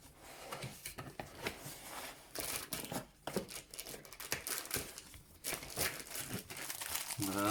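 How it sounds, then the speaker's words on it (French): Cardboard and paper packaging of a Panasonic Lumix G80 camera being opened, with steady crinkling, rustling and tearing sounds up close and no talking. "la petite boîte qui s'ouvre comme ceci"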